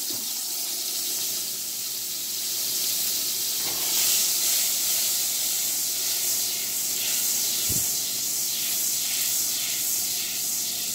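Steady sizzling hiss from butter in a hot pan, constant and fairly loud throughout, with a couple of faint clicks and clatters partway through.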